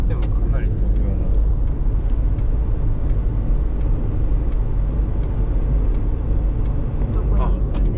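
Car engines and road rumble fill the scene as vehicles drive past while chasing hot air balloons at a balloon festival in Hokkaido, a steady loud traffic drone with people chatting over it.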